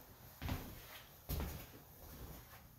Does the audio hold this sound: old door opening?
yes